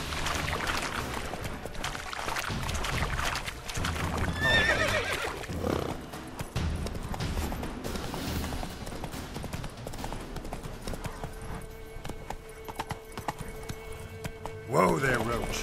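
Roach, a horse in The Witcher 3 game, whinnies loudly over rhythmic galloping hoof clip-clops, with the hoofbeats fading and another neigh near the end; a person talks over the game sounds.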